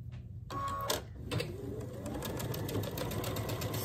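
A domestic sewing machine stitches a quilt square, running a steady, continuous mechanical hum after a few faint clicks and taps at the start.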